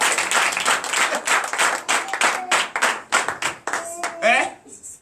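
A church congregation at a night deliverance service claps and cheers for Jesus, a dense burst of hand claps mixed with voices and shouts over about five seconds, ending in a few sung or called-out tones.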